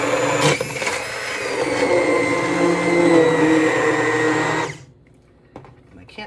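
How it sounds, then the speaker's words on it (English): A blender purees tomato soup in a loud, steady whir for about four and a half seconds, then cuts off, leaving near silence with a faint clack. "we're just gonna puree, and we'll be back when it's nice and smooth and creamy"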